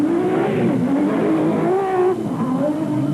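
Nissan Hardbody super truck with a V6 engine revving hard at peak RPM at a desert race start, a loud, continuous gritty roar with shifting pitch and a brief dip near the end.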